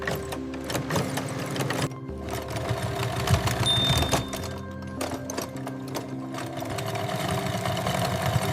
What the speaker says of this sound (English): Heavy-duty industrial needles punch thick thread through leather with extreme force.